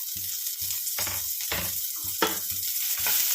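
Chopped onion, two green chillies and curry leaves are sautéed in a mustard-seed tempering, with a continuous close sizzle and rhythmic scraping stirs about every half second, no talk.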